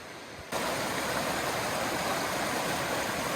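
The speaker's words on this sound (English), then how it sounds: "Another wet foot stream crossing. But this one is flowing nice and slow." Slow stream flowing across a hiking trail crossing on the Appalachian Trail, a steady close rush of water that starts abruptly after a brief quiet moment and then continues evenly.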